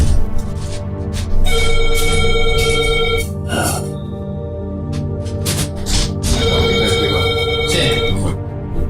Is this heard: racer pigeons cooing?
no